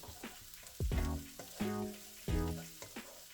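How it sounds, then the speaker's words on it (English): Diced onions fry in olive oil in a pan and are stirred, giving three bursts of sizzling and scraping with quieter gaps between them, heard up close at a low level. "Now we're adding the diced onions. We are going to stir until the onions are transparent."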